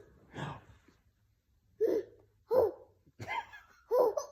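A child hiccups several times in short, sharp bursts spaced about half a second to a second apart, close and fairly quiet, with no talking in between.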